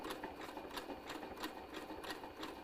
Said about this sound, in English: So we want to be sewing like this in this circular way until the circle reaches about 7 inches.